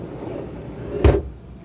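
A large refrigerator drawer being opened or closed: a single short thump with a brief rattle, near and moderately loud, against a quiet room background.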